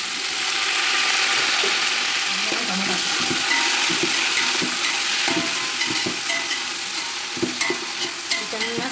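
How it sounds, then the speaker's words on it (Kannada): Onions sizzling and frying in a pan with cinnamon and cloves for biryani, a steady bright hiss with scattered stirring scrapes and clicks throughout, close and fairly loud with no talking. "ಚೆನ್ನಾಗಿ ಫ್ರೈ ಆಗಿ ಒಂದು 5 ನಿಮಿಷ ಹಾಕ್ಕೊಂಡು ಈರುಳ್ಳಿ ಕೆಂಪು ಬಣ್ಣ ಬರೋವರೆಗೂ ಫ್ರೈ ಆಗಿ"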